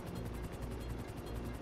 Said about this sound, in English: Yeah, blow up the helicopter again.